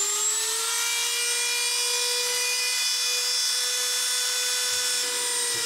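A Dremel flex shaft fitted with a Kutzall burr carving wood gives a steady, high, close whine with a constant pitch, heard alone for several seconds with no talking.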